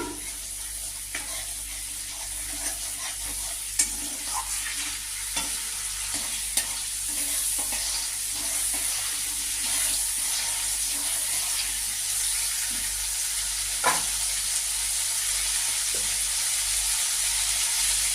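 Dried red chillies and onion hitting hot refined oil for tempering in a home kitchen, a continuous soft sizzle with occasional stirring clicks and scrapes of a spatula against the pan, close and steady with no talking.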